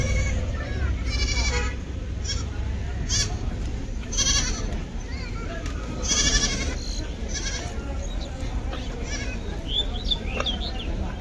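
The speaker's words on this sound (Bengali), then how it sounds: "আর এই ছাগলগুলো আছে" Goats bleating at a busy Qurbani cattle market in Ashulia, Dhaka, several short calls rising over a constant crowd murmur, with people talking nearby.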